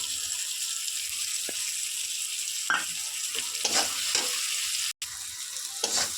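Prawns frying in a pan with turmeric and chilli, a continuous bright sizzle broken by several spatula scrapes and knocks, close and fairly loud, with a brief dropout near the end and no speech.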